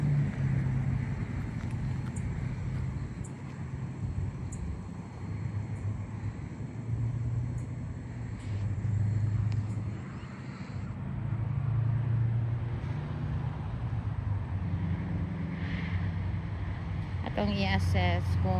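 A car drives along during a driving lesson, with a steady low engine and road rumble throughout and wind noise rising and falling, while a voice talks over it.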